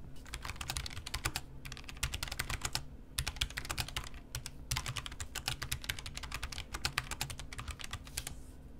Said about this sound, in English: a quick little sound bite of what this keyboard sounds like up close to my microphone